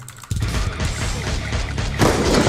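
Gunfire from a new weapon in the mobile shooter game Free Fire, landing a headshot: a sudden loud blast after a short lull, then a dense, sustained burst of crackling shots and impacts with another surge near the end.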